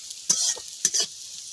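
Neem flowers frying in a pan, with two short bursts of stirring and scraping over a faint, steady sizzle of hot oil.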